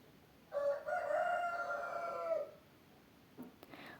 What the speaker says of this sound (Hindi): गांव में ना बहुत सारे जो है मुर्गियां सब पाले रहते हैं, तो उसका आवाज़ जो है बहुत ज़्यादा आ जाते हैं